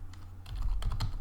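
Typing on a computer keyboard, a quick burst of soft clicking keystrokes close up, a short run of taps with no talking.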